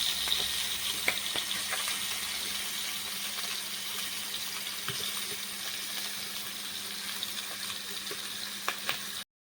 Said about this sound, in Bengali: মাছটাকে আমি উল্টিয়ে দিচ্ছি। মাছটা এক পিঠ হয়ে গেছে, আরেক পিঠ আমি উল্টিয়ে দিচ্ছি।